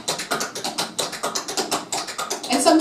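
Quick rhythmic tapping of feet doing a folk-dance shuffle step, a rapid run of crisp light scuffs and taps on a hard floor, close and steady for a few seconds.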